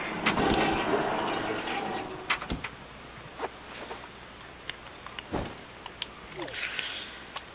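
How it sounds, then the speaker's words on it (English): A toilet flushing in The Sims Bustin' Out, a rushing gush of water that swells loudly at first and then tapers off, followed by scattered small clicks and soft game sounds. "flush that toilet"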